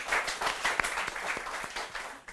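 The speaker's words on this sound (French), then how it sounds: "Applaudissez pour mon père qui n'est plus de ce monde." A comedy show audience claps in warm, dense applause, many hands at once, steady and fairly loud before fading slightly at the end.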